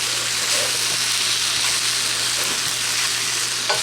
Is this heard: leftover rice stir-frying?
yes